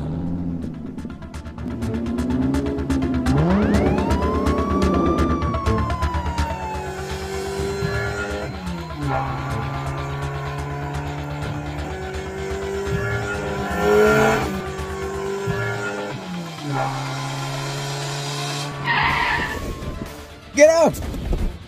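A police car with a wailing siren chases a white Camaro, engines revving and tires squealing through skids, loud and sustained, with voices occasionally over the action.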